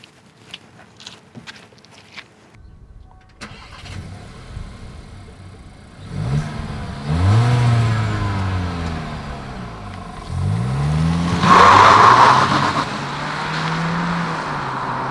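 Seat Tarraco FR with a 1.5-litre turbo petrol engine starting up after a few quiet clicks and steps, then revving in repeated rising and falling sweeps, loud and close with no talking.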